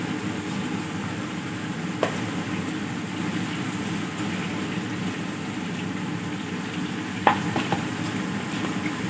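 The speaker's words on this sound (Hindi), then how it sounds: "अब इसमें हम बाकी की चिकन अपनी ऐड करेंगे और उसको भी इसी तरह हमने फ्राई करना है" Chicken fries in hot oil in a karahi for chicken tikka karahi, with a steady, close hiss and sizzle and a couple of faint clinks, and no one talking.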